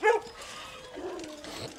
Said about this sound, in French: Parce qu'ils sont tous en train d'aboyer